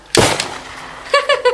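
A single sharp gunshot cracks close and loud, decaying quickly, followed by brief voiced sounds.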